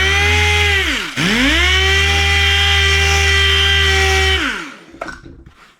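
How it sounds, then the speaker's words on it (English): A power sander works steadily over old dirt bike plastic with 220 grit sandpaper, a loud continuous whine that dips briefly, resumes, then winds down to a stop near the end. "Now I'm just going to take some 220 grit sandpaper and we're going to sand this whole thing smooth."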